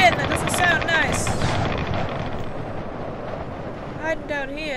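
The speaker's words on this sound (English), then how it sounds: "That was a pretty big explosion" A reactor explosion in the Subnautica video game booms as a deep, rumbling blast that decays into a long roaring tail, with a person's excited voice over it at the start and end.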